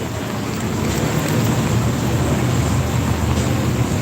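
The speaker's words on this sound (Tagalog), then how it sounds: "Biglang lumakas ang ulan, guys." Heavy rain pours down steadily near a guardhouse on the Pasig River Esplanade, a dense, continuous hiss at constant loudness with no voices.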